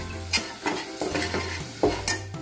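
A spoon stirs Malvani masala through hot oil tempering with asafoetida, giving repeated scraping strokes over a steady close sizzle, several distinct stirs in a row with no voices.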